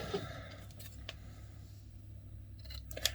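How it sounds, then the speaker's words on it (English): Scissors cut crochet yarn in a quiet room, giving a couple of faint, brief snips close by, with the last one sharpest near the end. "So I'm going to cut that yarn."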